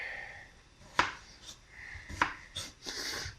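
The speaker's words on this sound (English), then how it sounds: "cut a potato in half" A knife slices a potato in half, giving two sharp, close chopping thuds about a second apart, followed by softer scraping and rubbing of the blade and potato on a board.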